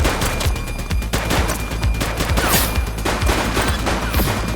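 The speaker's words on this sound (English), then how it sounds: "He's shooting!" Rapid, loud gunfire in The Precinct, a police action video game, with dense overlapping shots and bursts like a fusillade continuing throughout, close and without talking.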